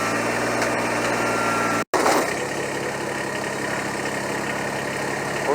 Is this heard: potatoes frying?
no